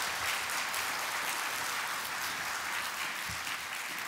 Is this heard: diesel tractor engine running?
no